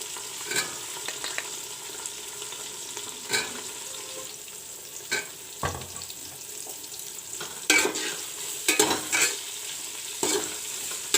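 Soya chunks fry in a pan with a soft, continuous sizzle, broken by repeated scraping strokes as a spoon stirs them at irregular intervals.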